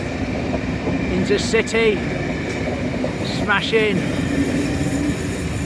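A train passes close by near a seawall, a steady loud rumble and clatter of rail cars running throughout while someone talks over it.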